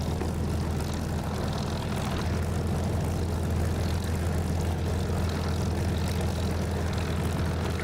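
An aircraft taxiing in the DCS flight simulator, with the brake lightly set: a steady low engine drone and propeller hum, constant and even, heard alone at moderate level.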